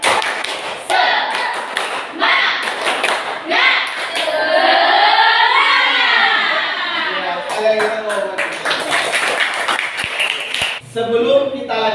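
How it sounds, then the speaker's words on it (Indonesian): A classroom group performs a rhythmic 'tepuk semangat' clapping chant, patterned bursts of claps alternating with loud chanted voices in a lively, energetic sequence. "Tepuk semangat."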